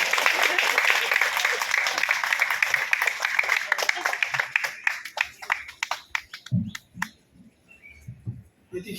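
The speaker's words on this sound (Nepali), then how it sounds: "हामी ताली बजाउनेछौँ" Wedding guests break into dense, sustained applause that fades into scattered claps and then stops. Faint voices are heard near the end.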